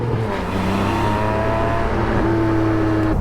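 A Porsche 718 Spyder's engine and exhaust drone steadily from inside or near the car, a loud continuous low rumble with a slight pitch rise as it pulls.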